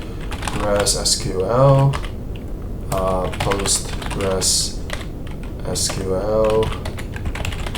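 Rapid clattering keystrokes on a computer keyboard in short bursts, close up, interleaved with someone talking.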